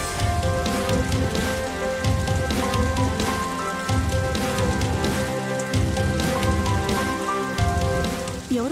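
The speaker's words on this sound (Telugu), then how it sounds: "నడుస్తూ ఉంటే మధ్యలో వర్షం వచ్చింది" Heavy rain falls steadily and loudly on surfaces, a dense continuous patter with no voices over it.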